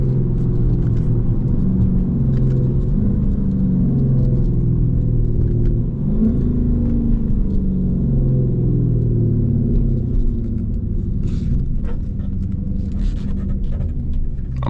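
A Dodge Charger Scat Pack with the 392 engine rumbles steadily from inside the cabin as it drives, a loud, continuous low growl with rising and falling revs through turns.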